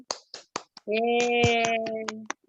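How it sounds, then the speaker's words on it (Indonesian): A handful of sharp, scattered claps sound up close at a school class award announcement, while a sustained tonal hum runs through the middle before the clapping trails off. "Tepuk tangan."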